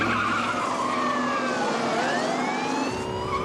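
Car speeding away from a traffic stop, tires skidding and engine roaring as it pulls off, with a siren wailing loudly throughout.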